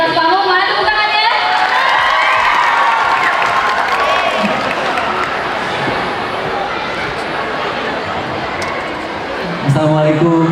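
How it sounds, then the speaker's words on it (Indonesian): A stage audience at a talk event welcomes a guest with loud, sustained applause and cheering, a dense crowd roar that dips slightly mid-way and swells again near the end, with voices mixed throughout. "Mana tepuk tangannya?"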